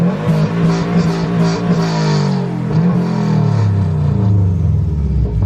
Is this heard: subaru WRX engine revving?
yes